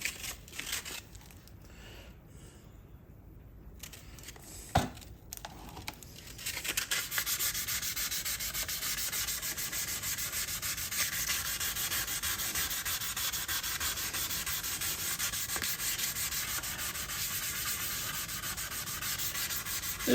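An axe head being refurbished is rubbed with fine-grit sandpaper, 800 then 1600 grit, giving a steady, close, hissing scratch that starts softly with a few handling knocks and then continues loud and unbroken.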